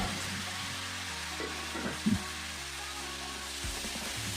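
Okra (ladies finger) and tomato sautéing in groundnut oil in a pan: a brief, fairly soft and continuous sizzle with a couple of light stirring bumps.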